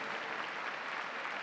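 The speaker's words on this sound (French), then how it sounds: "n'arrêtez pas vos applaudissements" Steady applause fills a show-jumping arena at the Saut Hermès 2019 international event, dense and continuous from a large crowd throughout.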